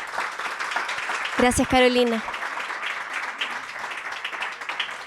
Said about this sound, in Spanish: Creo que el aplauso para Carolina puede ser doble por la valentía